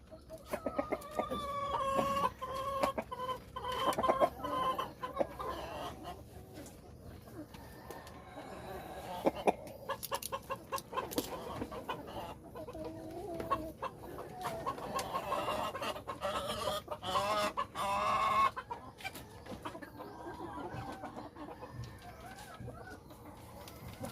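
Free-range heritage chickens cluck and chatter repeatedly at close range, with scattered bird calls and faint voices in the background.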